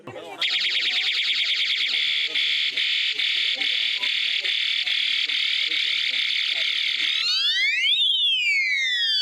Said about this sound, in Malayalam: സെൻസർ അടിസ്ഥാനമാക്കിയുള്ള ഈ ഉപകരണം വന്യമൃഗങ്ങളുടെ ചലനം തിരിച്ചറിഞ്ഞ് ഉടൻ അലാറം മുഴക്കുകയും ചെയ്യുന്നു